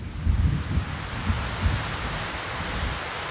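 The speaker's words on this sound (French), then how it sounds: "La pluie, c'est vraiment la pire des surprises." Steady rain falls as a dense, broadband wash, with a few low thumps early on and no one speaking.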